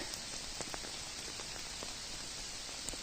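Steady April rain falling in a Carpathian mountain forest, a dense even hiss with scattered sharper drops tapping nearby leaves, heard alone without any voices.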